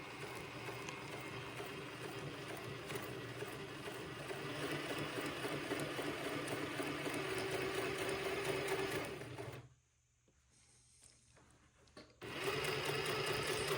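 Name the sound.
sewing machine stitching a 1/8 inch French seam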